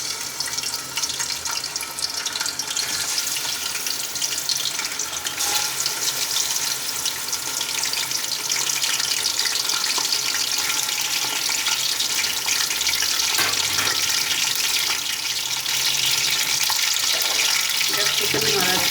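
Chicken frying in a hot pan for a lobia chicken curry, a loud, steady sizzle that runs throughout with occasional stirring and a faint voice underneath.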